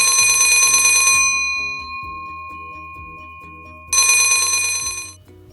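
A phone rings loudly and close with a bright electronic trill, sounding in two bursts separated by a quiet gap, alone without any talking.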